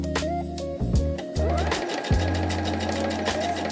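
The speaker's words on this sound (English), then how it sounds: "Sewing across." A sewing machine stitches across a quilt block, its motor humming in steady bursts with short pauses between runs, close and fairly loud.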